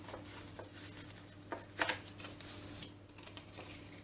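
Paper is folded along creased lines while making a Paperdori, giving soft, quiet rustles and crinkles with a sharper crackle near the middle.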